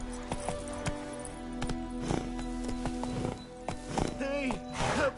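The horse Roach gallops in The Witcher 3: Wild Hunt, with steady hoofbeats under a man's speech and game sounds, ending in a short whinny.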